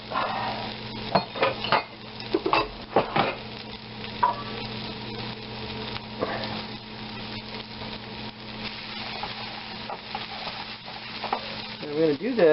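Onions and shallots sizzle steadily in a hot pan, with a spoon stirring and scraping against the metal in irregular clanks, close and moderately loud with no talk.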